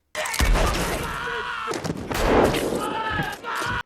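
Movie gunfire from Django Unchained rings out in loud, booming shots with reverberant echoes and a chaotic shootout texture, close and dominant throughout.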